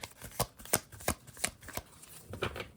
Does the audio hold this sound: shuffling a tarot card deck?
yes